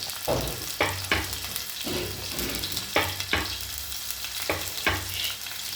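Garlic and ginger fry in a pan with a steady close sizzle, broken by repeated scraping stirs at a loose, uneven rhythm, with no voices.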